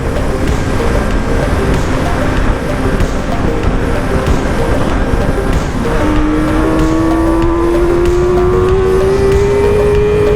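A car engine rumbles steadily nearby, then its pitch rises as the vehicle accelerates and drives past, with a faint tire squeal, outside a McDonald's in Vyshhorod, Ukraine.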